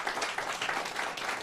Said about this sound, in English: Yes, we can give Wayne another round of applause.